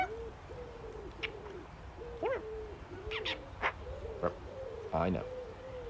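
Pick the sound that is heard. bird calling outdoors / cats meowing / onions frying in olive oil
bird calling outdoors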